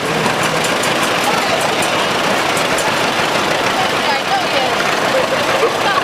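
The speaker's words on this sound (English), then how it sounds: "This next one is a Case 1955 Model 400" A 1955 Case Model 400 tractor engine runs steadily in a county fair tractor parade, a continuous rumbling drone blended with outdoor crowd noise and announcer talk.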